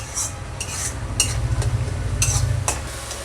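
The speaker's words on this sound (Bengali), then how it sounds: "ভালো করে নাড়িয়ে নাড়িয়ে এরম করে নেবেন যাতে টমেটোটা নিচে না লেগে যায়" A spoon scrapes and stirs thick tomato masala in a frying pan, with rhythmic scraping strokes over a low steady sizzle, close and moderately loud, no voices.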